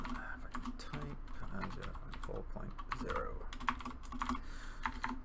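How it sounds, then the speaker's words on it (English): Quiet clicking of a computer keyboard during coding, with irregular bursts of keystrokes tapping close by at a soft level, with no voice over it. "So start with pragma, solidity, and then if I can type"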